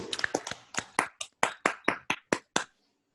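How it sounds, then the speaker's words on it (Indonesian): About a dozen separate hand claps ring out one after another at a brisk, uneven pace during a virtual awards session, close and clear with no talk, then stop. "tepuk tangan dong untuk MM56 dulu"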